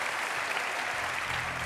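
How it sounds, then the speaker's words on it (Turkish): Audience applause in the studio of the Turkish television talk show Beyaz Show, a steady dense wash of clapping that holds evenly for the whole stretch without a break. "Gel konuklarımıza da toplu bir alkış alalım."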